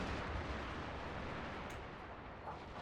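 A unit of gunmen firing volleys in the video game Shogun 2: Fall of the Samurai, heard as a dense, continuous rumble of battle gunfire that stays loud and steady throughout with no talking.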